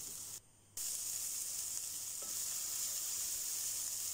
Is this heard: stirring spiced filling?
yes